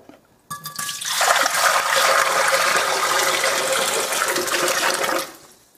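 Water pours steadily into a mixing container for puff pastry dough, a loud continuous gushing and splashing that runs about five seconds, then stops abruptly, with no talk.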